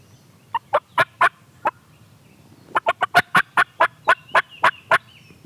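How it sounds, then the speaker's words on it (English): Wild turkeys gobble outdoors in a run of sharp, rattling calls, a few spaced calls first and then a quick burst of about a dozen, fairly clear against a quiet background. "There's turkeys down"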